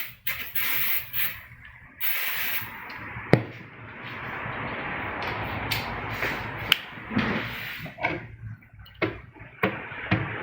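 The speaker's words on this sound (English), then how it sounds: "Might hit this one with some brake cleaner." Brake cleaner sprayed into an oily cavity of a sinker mold, a sustained hissing spray lasting several seconds between scattered knocks and clicks of handling, fairly close, with no voices over it.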